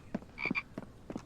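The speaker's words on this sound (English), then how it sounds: "Shush frog" A frog croaks in the video game The Infected, several short, close croaks in an irregular series with one raspy double call in the middle.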